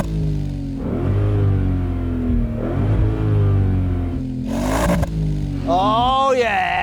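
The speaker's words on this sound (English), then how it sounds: "I'm going to rev it up." An Audi C5 RS6 Plus with an upgraded performance exhaust revs while stationary, its loud engine note rising and falling in several blips before a final sharp rev, with brief talk near the end.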